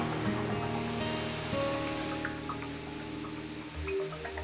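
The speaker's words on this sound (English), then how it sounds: "a vertical waterfall almost 50 meters high" A vertical waterfall almost 50 meters high in a canyon on Reunion Island pours in a steady, dense roar that stays full and continuous throughout, with no voices.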